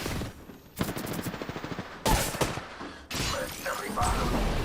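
Bursts of enemy gunfire in a shooter video game, a rapid machine-gun rattle followed by heavy loud volleys and blasts, dense and close throughout.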